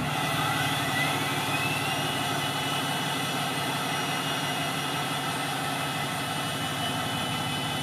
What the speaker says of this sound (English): This is going to be a cold start with the exhaust brake on.